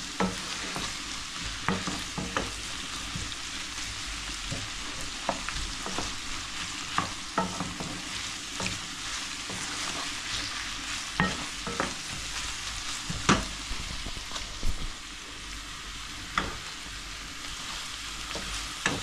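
Onions frying in oil in a pan for a green curry, a steady sizzle running throughout with frequent soft scraping stir clicks, close and moderately loud.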